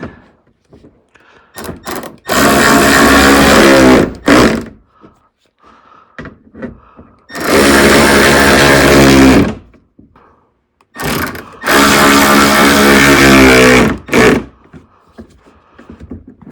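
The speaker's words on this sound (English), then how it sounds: "take that last screw and just put it here. Just going to tighten everything" A power tool drives in the fog light screws on a 2020 Toyota Sienna, three loud whirring bursts of about two seconds each, close up, with quiet handling clicks in between.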